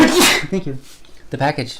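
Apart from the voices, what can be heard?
sneeze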